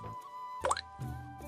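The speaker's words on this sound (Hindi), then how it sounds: "केवल पीतल के बर्तन में गिरती बूंदों की टिप टिप सुनाई दे रही थी" Water drops fall into a brass pot from a leaking roof during rain, giving a few distinct close plops with quiet room tone between them.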